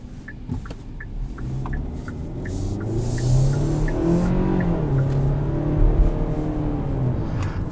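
A 2021 Kia Sorento S with its 2.5-litre four-cylinder accelerating, a steady, growing engine drone that rises in pitch and loudness over several seconds, heard from inside the cabin with road rumble beneath.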